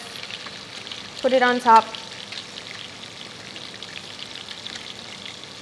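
Fish frying in a pan with a breadcrumb topping, a low, steady sizzle throughout under a brief spoken phrase from a nearby voice.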